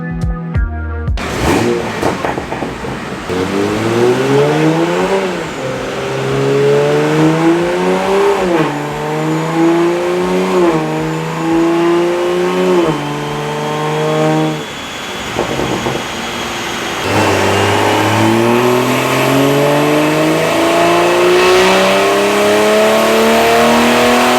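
Toyota A90 Supra on a dyno with an aftermarket exhaust system, engine revving repeatedly up through the gears in loud rising sweeps, briefly dropping off mid-run before climbing hard again.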